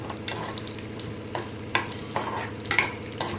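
Garlic, cumin and peanuts frying on a low flame in a tempering, a close continuous sizzle with a few sharp scrapes of a spoon against the pan and no talking.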